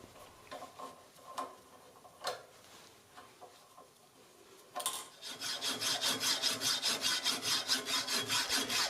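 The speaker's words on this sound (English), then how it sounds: "the drag of the hacksaw blade will turn the screw into the nuts so it doesn't spin" A hacksaw cuts through a bolt clamped in a vise: a few scattered metallic taps and scrapes at first, then a loud, steady back-and-forth rasp of evenly paced strokes, close and without talk.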